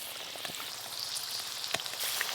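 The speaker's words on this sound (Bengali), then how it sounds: "চপ ভাজার সময় কিন্তু এরকম জোরে জোরেই জাল দিতে হবে, কম আঁচে হবে না" Mocha (banana blossom) chops deep-frying in hot oil in a wok over high flame, a steady crackling sizzle with scattered sharper pops, fairly quiet and alone without talk.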